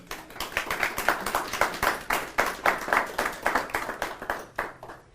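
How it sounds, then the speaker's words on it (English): An audience at a chamber of commerce talk event claps for the mayor of Chattanooga in a fairly close, moderately loud round of applause with individual claps audible, rising and falling throughout. "let's give a big round of applause for Mayor Kelly"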